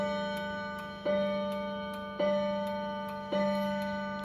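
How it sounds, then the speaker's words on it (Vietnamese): A Japanese mechanical clock ticks steadily and close by, with sharp regular ticks over a faint ringing hum and a stronger accented beat about every second. "Đây là con đồng hồ Nhật nó đang kêu nhé"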